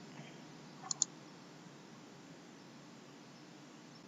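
A computer mouse clicks twice in quick succession near the start, then the rest is quiet room noise.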